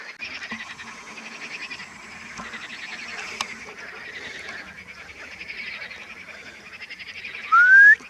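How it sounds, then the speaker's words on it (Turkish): Frogs croak steadily during mating season in a rural waterside setting, a continuous pulsing chorus at moderate distance, with a brief louder rising squeal breaking in near the end. "burada bir fon müziği var kurbağaların oluşturduğu şu anda"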